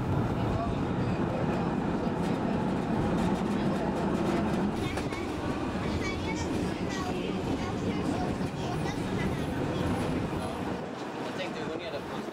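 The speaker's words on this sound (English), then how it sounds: "The tram turns inland from the river as it approaches the Parliament." A Budapest tram running along the riverside rumbles and rattles steadily at a moderate distance, with a continuous rolling drone under a narrating voice.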